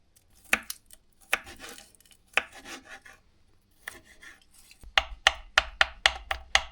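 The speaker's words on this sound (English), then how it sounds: "I don't really know what's the proper way to peel garlic" Garlic cloves being peeled and crushed by hand on a kitchen counter: scattered dry rubbing and scraping bursts, then a run of sharp, evenly spaced knocks, close and fairly loud with no talking.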